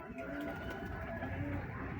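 A Prince pigeon of a fancier's flock coos softly and continuously at close range, a low murmuring sound with no voices over it.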